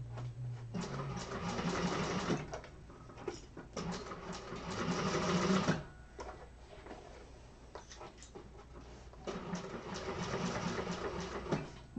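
A sewing machine stitches the exterior of a bag in several bursts, its motor whirring close and loud for a few seconds at a time with short pauses between runs.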